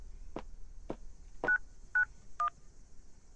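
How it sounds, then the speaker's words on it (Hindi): Telephone keypad tones from a phone dialing the police inside a game, with five short distinct beeps at a steady pace, no talking. "पुलिस को फोन लगाता हूँ इसमें।"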